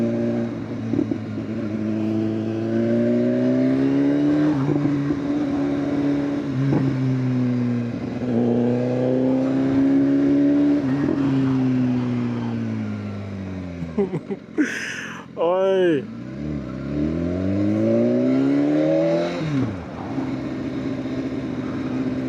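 A 2016 BMW S1000RR Gen 3 sport bike revs hard through rising and falling gears, with crackling exhaust pops during a brief lift around the middle; a rider shouts once over the close, loud engine.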